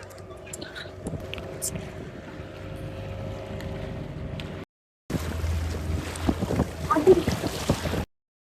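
Motorboat ride on open water during a day out with cousins, steady engine drone and wind rushing past the microphone with water noise, continuous apart from a brief break midway.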